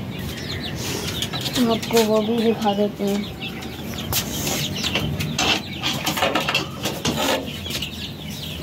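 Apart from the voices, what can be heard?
chickens, rooster and hen in coop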